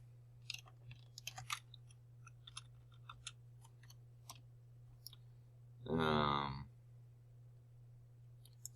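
Scattered, quiet keystrokes tap on a computer keyboard at close range, broken by a short burst of a louder hum partway through, with no speech.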